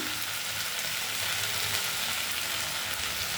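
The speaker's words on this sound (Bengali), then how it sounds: "মা আলুটা ভালো করে ভেজে নিচ্ছে" Potatoes frying in a pan during home cooking of peyaj alu posto, a steady close hiss and crackle of sizzling oil continuing without break, with no one talking.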